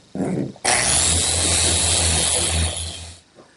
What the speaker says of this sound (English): now it's a matter of sanding and sanding and sanding